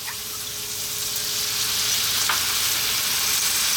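Light soy sauce hits a hot pan with fried sea bass and sets off a loud, close sizzle that swells and holds steady, with a couple of faint clinks and no talking.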